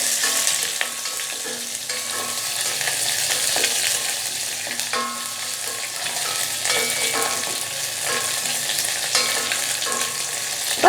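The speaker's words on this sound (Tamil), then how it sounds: "சின்ன வெங்காயம் கொஞ்சமாக கட் பண்ணி வச்சுருக்கேன், அதோட 2 வரமிளகா சேர்த்துட்டு இதை வதக்கி விட்டுக்கலாம்." Small shallots and two dried red chillies sauté in a pan for ven pongal. A steady, fairly loud sizzle runs throughout, with repeated scraping stirs from a spoon.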